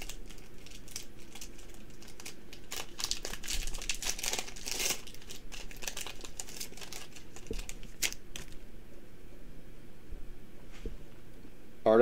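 A trading card booster pack wrapper is torn open and crinkled, with close, continuous crackly rustling and sharp tearing bursts that ease off near the end, no one speaking.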